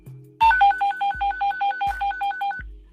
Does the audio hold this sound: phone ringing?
yes